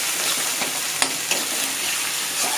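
Vegetables with chili and garlic sizzle steadily in a hot pan while being stirred, with a couple of sharp scraping clicks from the utensil over a continuous frying hiss.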